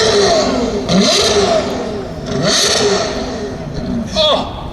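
A Ferrari LaFerrari supercar at a parade revs hard in three loud, sharp bursts, each engine note climbing quickly then dropping back, heard up close.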